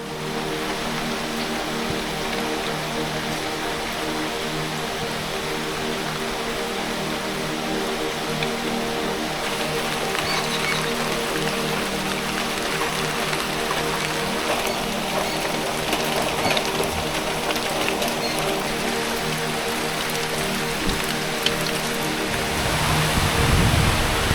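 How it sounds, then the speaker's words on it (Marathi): Monsoon rain falling in the Konkan region, a constant dense hiss of downpour that swells slightly partway through, with a low rumble rising at the very end. "आणि आता पाऊस सुरू झाला"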